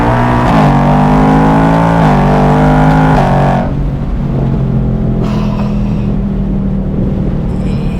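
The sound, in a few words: 2024 Ford Mustang GT engine accelerating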